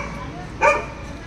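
A single short dog bark, fairly faint against steady outdoor background noise at a palliative care centre in Kerala.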